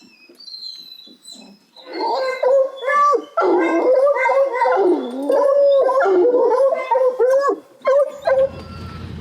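Several hunting hounds bay and howl together in long, wavering, overlapping cries, loud and fairly close, with brief gaps between bursts, during summer training with bears treed.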